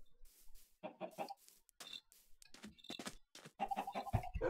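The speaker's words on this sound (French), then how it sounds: "vous pouvez voir le poulet en bas" Chickens cluck in quick, uneven bursts, several birds close by but faint, with short gaps between the calls.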